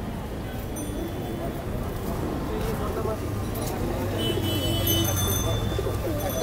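Pigeons coo at a crowded pigeon market in Mirpur 14, soft throaty calls mixed into busy market chatter, voices talking nearby and faint traffic in the background.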